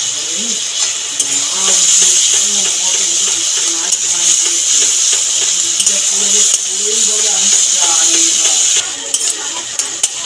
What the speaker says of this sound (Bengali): টমেটোটা ভালো করে ভাজা হয়ে গেছে